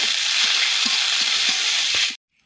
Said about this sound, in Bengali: এইগুলো দিয়ে আমি দুই মিনিটের মতো ভেজে নিব